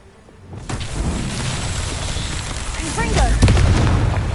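A Confringo fire spell exploding in Hogwarts Legacy, a swelling blast that builds into a sustained roaring rumble, growing louder toward the end and layered with crackling game effects.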